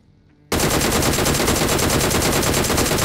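Sustained automatic gunfire in a video game battle, loud and continuous, bursting in abruptly after half a second of near silence and hammering on without pause, with no voices.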